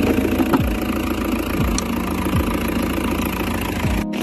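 Isuzu Trooper diesel engine idling on a cold start, with a steady low rumble and a faint knocking pulse that runs through the whole stretch, close and fairly loud, and nobody speaking.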